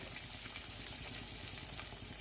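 Chicken pakoras frying in hot oil over a medium flame give a steady, faint sizzle and crackle, with no voices over it.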